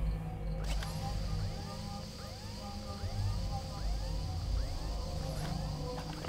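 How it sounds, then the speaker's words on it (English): Faint, repeating police siren wails rise and fall in quick cycles from a distance, under a busy background rumble, in the video game Soldier of Fortune. "I hear police sirens."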